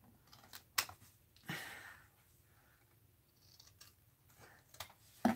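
Scissors snip through a strip of tape in a short, sharp cut, with a few light handling clicks around it during an art journaling session.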